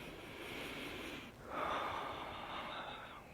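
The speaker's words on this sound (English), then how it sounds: "it'll start to induce a calming effect as I just took a deep breath" A slow, deep breath drawn in through the nose and released, close and fairly soft, a long airy inhale swelling midway with no talking.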